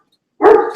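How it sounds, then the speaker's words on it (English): A single loud, close dog bark comes out sharply after near silence. "do you guys hear my dogs?"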